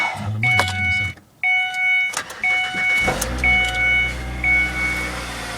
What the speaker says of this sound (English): Let me start it and show you how it fixed the problem.